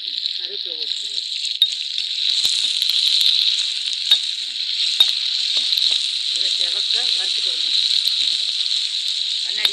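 Leaves sizzle and spit in hot oil with a bright, steady frying hiss and occasional pops, while a voice talks faintly underneath.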